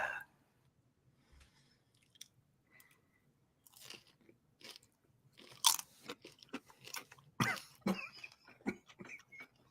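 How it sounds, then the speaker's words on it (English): A hot sauce-flavored chip bitten and crunched up close, a few sharp crisp crunches followed by chewing, with a cough or throat clearing early on and no talk. "now we're about to sample the chip"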